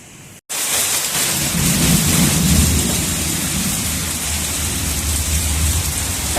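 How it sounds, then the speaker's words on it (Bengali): Heavy rain pours down steadily on a household during a storm, a dense, loud wash of downpour with low thunder rumbling underneath, starting abruptly after a brief quiet moment and continuing unbroken. "এখন শুরু হয়ে গেছে জোর বৃষ্টি"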